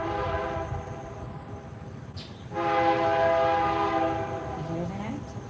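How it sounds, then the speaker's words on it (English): A train rumbles past with a steady low roar, and its long horn blows in sustained harmonic tones that swell louder midway. "That's a train."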